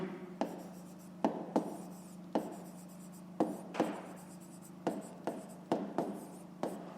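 Hand writing during a fifth-grade maths exercise: a dozen short, crisp pen strokes and scratches come in irregular bursts, close and fairly quiet, over a steady low hum with no talk.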